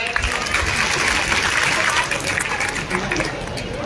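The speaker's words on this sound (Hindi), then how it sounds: "एक बार करतल ध्वनि से तालियों से स्वागत हो जाए।" An audience at the opening of a sports festival in Katni claps to welcome a guest, a continuous, loud wash of applause with crowd noise and voices underneath.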